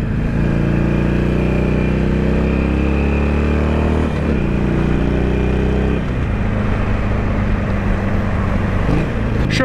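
A Harley-Davidson Sportster Iron 883 two-cylinder motorcycle engine drones loudly and steadily while riding, its pitch shifting with gear changes around the middle, with no voices over it.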